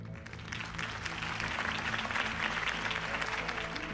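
Crowd applause in the Batman Telltale video game after a campaign speech for Harvey Dent, a dense sustained clapping from many hands that swells slightly and holds steady throughout.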